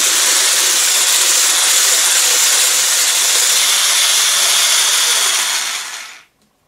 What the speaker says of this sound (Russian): Взбиваем на больших оборотах до густой устойчивой пены